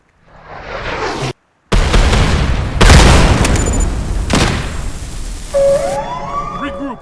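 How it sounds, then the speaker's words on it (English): Enemy mortar rounds detonating in the shooter game Hired Ops, heavy booming blasts that roll into long rumbling decays, one after another at close range, with a sudden silent cut partway through and a tonal alert sweep near the end. "Enemy mortars working."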